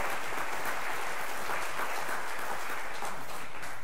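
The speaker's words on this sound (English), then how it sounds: "Give him a round of applause." A church congregation applauds during a Sunday worship service, with steady, even clapping from many hands filling the room for a few seconds and no talking.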